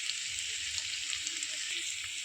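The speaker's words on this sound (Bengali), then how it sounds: "এবার মশলাটি ভালোভাবে কষিয়ে নেব।" Chilli, cumin and turmeric powder masala fries in oil for chicken kosha, a dense, even sizzle and hiss that continues unbroken, with faint stirring underneath.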